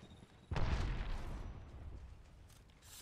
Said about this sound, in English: Grenade incoming.